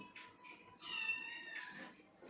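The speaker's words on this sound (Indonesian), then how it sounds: "Sorry guys, aku pikir kucingku, nggak tahu kucing orang lain, tetangga. Meong-meong." A neighbour's cat meows indoors in a quiet room, a few drawn-out meows of moderate loudness with no talk over them.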